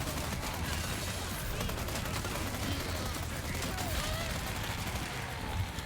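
Rapid gunfire from the Mercenaries mode of Resident Evil 4 Remake plays as a dense, continuous clatter of shots layered over game sound, fairly faint overall, with no clear voice on top.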